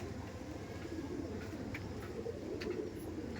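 A Kalanka pigeon in a loft coos low and continuously for a few seconds, close by, with faint chirps and background noise around it.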